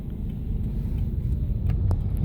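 Steady low motor and road rumble from a car moving slowly through traffic on the way to a Taal Lake overlook cafe, continuous and close with no voices.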